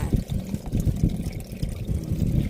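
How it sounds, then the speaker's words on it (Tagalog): Water pours from a tap aboard a fishing boat out at sea, a close, uneven splashing and trickling stream with some background movement, no speech. "May gripo kami dito, may gripo."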